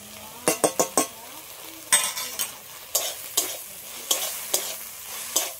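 A spoon scrapes and knocks repeatedly through a shrimp and banana flower mixture seasoned with salt and a little sugar in a pan, sharp irregular stirring strokes over a soft background sizzle, close and alone without talk.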